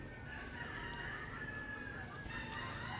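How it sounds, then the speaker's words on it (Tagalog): A chicken on a house roof calls over constant outdoor background noise, fairly loud and close, with no one talking. "may manok dito sa ibabaw na naman ang bubong namin"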